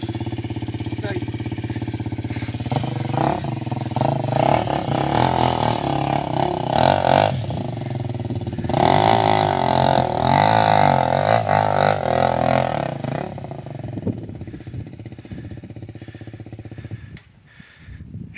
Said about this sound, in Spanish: Eso es una maravilla de moto.